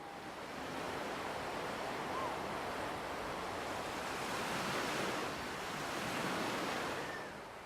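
Surf rolls onto an Algerian beach in a broad, steady roar, swelling and easing gently as waves break, with some wind noise over it.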